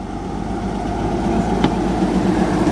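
A classic MGB GT rolls past at an outdoor car show, its engine a steady, moderately loud low rumble that holds evenly throughout, with a brief faint click partway through.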